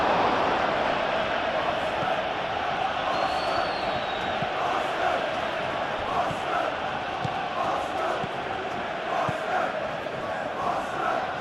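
A stadium crowd in a football video game roars in a constant, dense wash of cheering and chanting, steady and fairly loud for the whole stretch, with speech faintly present beneath.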